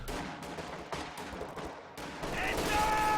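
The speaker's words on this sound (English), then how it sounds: "MG42 opening up on the captain." MG42 machine gun fire in the video game Company of Heroes 2 comes as rapid, fairly faint bursts within a busy battle mix of distant explosions and other shots.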